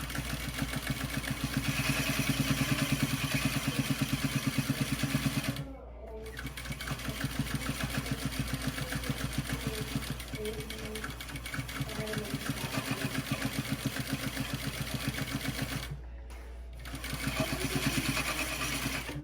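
A sewing machine stitches a seam down the middle of foam bra cups, backstitching at the start and end, running loud and close almost nonstop for nearly twenty seconds with two brief stops.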